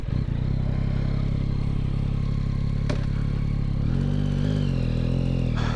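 A 2022 Yamaha XSR900 motorcycle idles steadily after warming up, its engine a close, constant rumble, with a brief clank near the three-second mark and a slight shift in engine tone toward the end.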